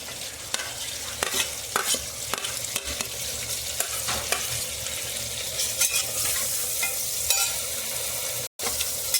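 Spices such as bay leaf, cinnamon, cardamom, dried red chillies, cumin and green chillies frying in hot oil, a steady close sizzle with frequent stirring scrapes and no talk.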